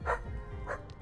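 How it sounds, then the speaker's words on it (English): A dog barks at a neighbor, two quick close barks about half a second apart followed by a faint yip. "Oh, he's barking at a neighbor."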